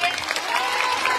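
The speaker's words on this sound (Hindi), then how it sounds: "आप सब तालियां बजाइए।" Brief burst of audience applause at a women's assembly event held at a Kabir ashram in Nagpur, a dense steady clatter of many hands with a faint murmur of voices mixed in.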